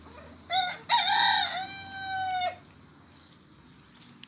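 A young black rooster crows once from somewhere in the background of a free-range farmyard with hens and ducks, a clear, drawn-out call standing alone with no talk over it.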